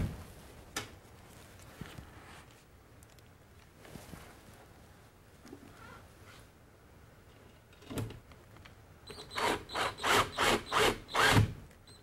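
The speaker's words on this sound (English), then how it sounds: "Want to secure the brace to the recess can by using these special screws and washers and using a driver." A handheld driver whirs in a quick run of short bursts, fastening screws through a brace into a recessed light can during a chandelier install. Faint clicks and handling noises come first, all close in a quiet room.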